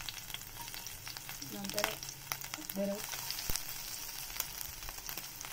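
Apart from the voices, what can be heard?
garlic frying in hot oil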